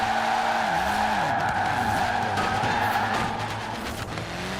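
A car drifts with the e-brake in Forza Horizon 4, giving a loud, sustained tire squeal and skid over a roaring engine that rises and falls through the slide.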